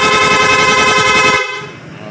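A loud aftermarket PIAA horn on a Honda ADV 160 scooter blares continuously up close for over a second, then cuts off, leaving a low hum.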